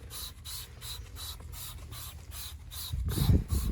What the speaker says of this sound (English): now I'm just going to spray the wheels with some wheel cleaner.